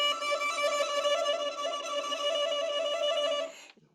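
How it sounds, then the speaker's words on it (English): Thin, airy violin whistle from fingers pressed too lightly on the string, a steady faint tone held for about three seconds, then cut off, alone with no voice. "we don't want to play so lightly that we end up just making a whistling sound like this."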